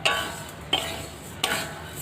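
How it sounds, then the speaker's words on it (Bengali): Mung dal dry-roasting in a pan over low heat, stirred with a utensil: three distinct scraping sweeps of the spoon, close and fairly loud, with a soft rustle of lentils between them and no talking. "তো দেখো এখানে আমি মুগ ডালটা ভেজে নিচ্ছি"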